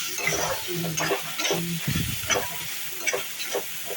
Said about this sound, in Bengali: কাজু বাদামটা অ্যাড করার পরে কাজু বাদামটাকে একটু ভেজে নিচ্ছি।